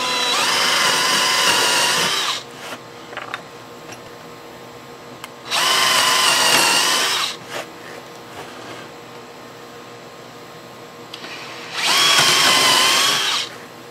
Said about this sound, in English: The slower I drill through, the less breakout I'm going to get on the other side.